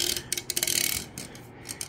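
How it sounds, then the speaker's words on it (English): Small gears whir and rattle inside a toy Boeing 777-9X model plane. The grinding comes in quick irregular bursts of mechanical clatter, close up and fairly quiet. "That's the sound of the gears running."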